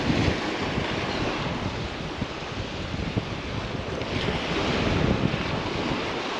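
A westerly side wind on Talacre Beach in North Wales blows in a constant, heavy roar across the microphone, mixed with broad surf wash for over six seconds with no voices.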